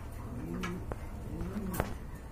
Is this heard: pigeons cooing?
yes